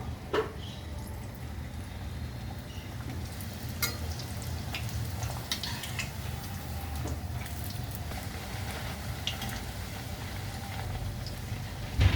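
Bhatura dough frying in hot oil, a dense, steady crackling sizzle like rain on a surface, close and continuous for several seconds, with scattered sharper pops and no talk.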